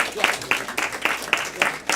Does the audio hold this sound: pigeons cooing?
no